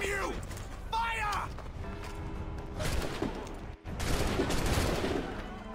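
A musket volley is fired in the video game Assassin's Creed III: a loud burst of gunfire crackles out after a shouted voice and is followed by a second noisy blast, all set over game sound.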